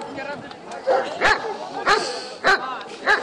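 Working dogs of the Dzerzhinsky Division bark close by: several loud, sharp barks at roughly half-second intervals, with people talking underneath.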